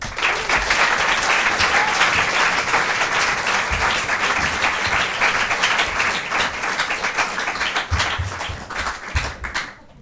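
A studio audience at a televised talent show applauds steadily and loudly for an act, the clapping dense and sustained before thinning out at the end.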